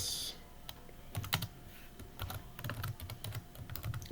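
Typing on a computer keyboard while entering code in Python, quiet and close, scattered keystrokes that build into quicker bursts of soft clicks toward the end, no speech.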